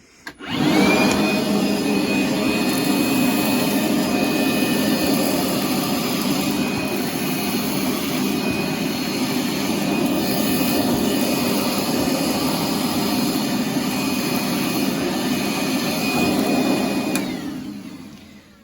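A DeWalt 20V shop vac fitted with a floor attachment switches on and runs as a loud, steady whine and roar for about seventeen seconds before shutting off.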